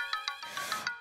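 A phone ringtone chimes in a bright repeating electronic pattern, several short tones pulsing roughly every sixth of a second, clear and fairly close with no voices over it.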